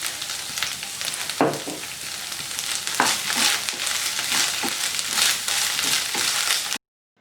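Grated or chopped ginger sautéing in coconut oil for a Kerala ginger curry, a steady close sizzle and crackle of frying with occasional scraping stir strokes, continuous for several seconds before cutting off abruptly.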